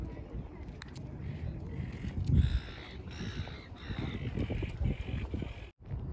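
A white seabird calls with repeated harsh cries near the shore at St Kilda, Melbourne, over steady outdoor background noise.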